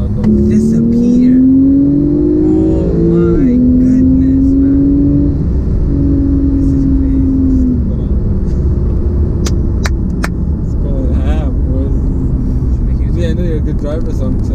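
Engine of a twin-turbo Porsche 911 revving, its pitch climbing and dropping between gear changes inside the car, loud and steady beneath voices talking throughout.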